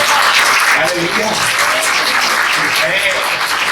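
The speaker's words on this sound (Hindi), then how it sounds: "ताली बजाएं उसके लिए" A worship congregation claps together in loud, continuous applause, dense and sustained, with voices mixed in beneath.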